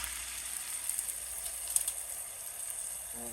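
Flour stirred into a sizzling pot of corned beef Guinness stew, a steady close-up fizzing hiss with faint scraping and clicks, fairly quiet.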